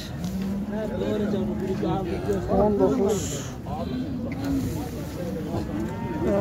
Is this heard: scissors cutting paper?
no